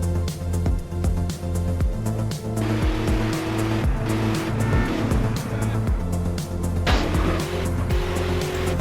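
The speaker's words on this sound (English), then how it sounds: "Then, I added realistic car sounds." Modded realistic car engines in GTA San Andreas roar loud and steady, with revving tones rising and falling, tires squealing and cars rushing past in a busy driving sequence.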